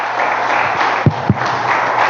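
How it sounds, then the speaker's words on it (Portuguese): A church congregation applauding during a worship service: a steady, dense wash of clapping that carries on throughout with no clear break. "Vamos aplaudir a Deus"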